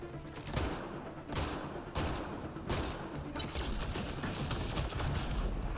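Gunfire in the video game Mass Effect Andromeda comes in dense, rapid volleys of shots and thuds that carry on continuously at moderate volume, with no talking.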